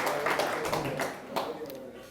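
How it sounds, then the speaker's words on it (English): Audience applause at a prison reform presentation, a dense wash of clapping, rising and falling over a couple of seconds while a voice keeps talking over it. "Please, a round of applause."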